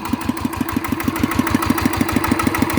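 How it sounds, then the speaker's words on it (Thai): A single-cylinder ET 110 engine runs normally, chugging close and loud with a fast, even thumping beat of about five firing pulses per second that stays steady throughout, no voices. "ตอนนี้เครื่องก็ปกตินะครับ เร่งปกติทุกอย่างนะครับ"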